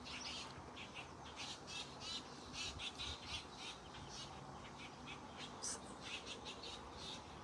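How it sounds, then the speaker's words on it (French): Outdoor birds chirp and squawk on a sunny morning, a busy chorus of repeated calls over a constant faint background hiss, moderately distant and fairly quiet. "Les oiseaux. C'est-tu beau?"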